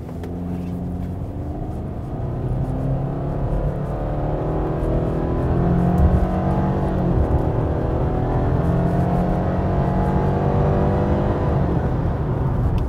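A 2021 Subaru XV/Crosstrek accelerates hard from 0 to 100 km/h, its engine droning loudly and steadily rising in pitch over about ten seconds, heard from inside the cabin with no talking.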